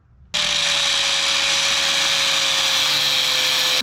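A power tool starts abruptly and runs continuously at a high, steady whine, cutting off steel bolt holes on a Jeep JKU shock mount, loud and close with no speech.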